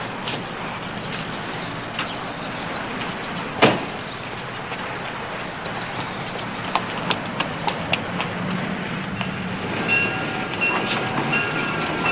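A train rolls past with a steady rumble, rhythmic clacking of wheels over rail joints, and a sharp metallic knock partway through, loud and close with no voices over it.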